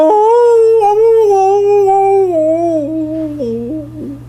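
A man imitates a wolf howl with his voice, producing one loud sustained wavering howl that slowly falls in pitch and breaks into short quavers as it fades.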